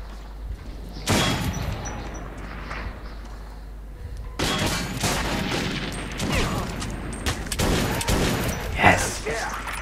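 Gunfire in Metro 2033 as enemies are shot down, a sharp burst, then a few seconds of relative quiet, then a longer stretch of repeated shots and impacts mixed with game noise.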